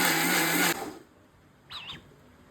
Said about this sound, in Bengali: এখন দিয়ে দিব ব্লেন্ডারের ভিতরে